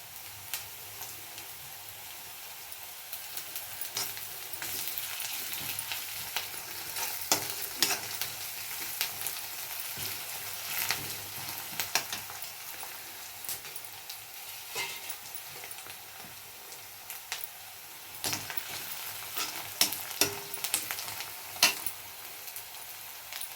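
Ginger and garlic fry with already sautéed onions in a pan for a gravy, giving a steady soft sizzle throughout, broken by frequent scraping and tapping as a spoon stirs the mixture.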